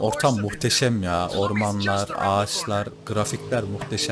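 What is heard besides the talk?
None of the usual background noises is heard.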